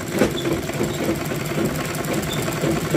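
Close, continuous chatter of a sewing machine stitching salwar fabric, its needle beating a rapid, even rhythm without pause over three seconds, with no talking.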